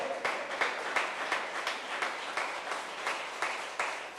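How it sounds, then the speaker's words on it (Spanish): A church congregation applauding in a steady, rhythmic clap that pulses about three times a second, loud and close, with no voices over it. "Alguien aplaude al Señor, aleluya."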